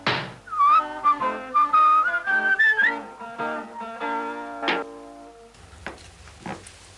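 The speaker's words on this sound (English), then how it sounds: "he puts all the letters in a great big sack and whistles as he marches with his load upon his back" A postman character in the children's stop-motion programme Camberwick Green whistles a cheerful tune for a few seconds over light instrumental music, and more music follows after the whistling stops.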